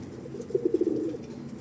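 A pigeon-like bird near people by a seaside spot, giving a short series of soft, rhythmic cooing calls close by, about five pulses in quick succession over steady low background noise.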